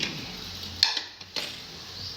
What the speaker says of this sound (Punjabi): ਹੁਣ ਢੱਕਣ ਖੋਲ ਲਾਂਗੇ